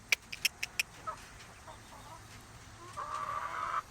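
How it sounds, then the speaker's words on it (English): Hens being let out of a chicken coop give a quick run of five sharp clucks, then softer scattered calls and a rising, drawn-out squawk, close by over outdoor background noise. "I'll let the hens out here if they'll come on."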